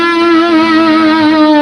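A held electric guitar string bend with uneven, wobbling vibrato, a buzzing, unsteady 'dying wasp' tone, loud and alone throughout.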